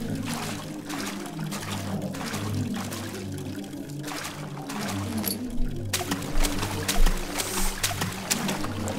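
Water pours and trickles steadily in a flooded passage of an Amnesia horror custom story, with a low droning ambience underneath and a few louder splashy surges near the end; no one speaks.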